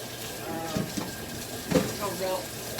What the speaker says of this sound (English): I want to wash my hands off again